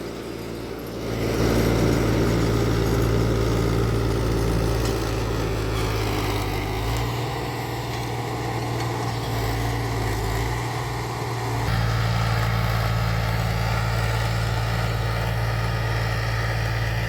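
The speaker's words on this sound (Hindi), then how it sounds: "महिंद्रा 265 DI भूमिपुत्र मॉडल, बहुत जबरदस्त जुताई करते हुए खेत में" A Mahindra 265 DI Bhumiputra tractor ploughing a field, its diesel engine droning steadily and loudly at close range, with a brief dip in the low rumble midway before it returns at full strength.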